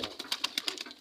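Pigeons in a backyard pigeon house coo in a quick run of soft, pulsing notes, faint and close for about a second.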